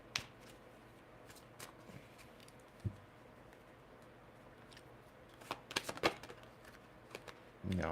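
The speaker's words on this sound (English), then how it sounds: "I want to shuffle them more" Playing cards for a reading are shuffled close by, a faint run of soft, irregular riffling clicks and taps spread across a quiet background.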